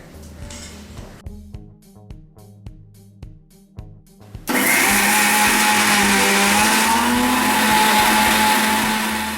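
Roasted masala for a seer fish curry being ground in an electric blender: a few short stop-start pulses, then a loud, steady high-pitched whirring roar that holds for several seconds before easing slightly at the end.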